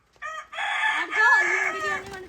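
A rooster crows once on a farm, close and loud: a short opening note followed by a long, drawn-out call that fades away.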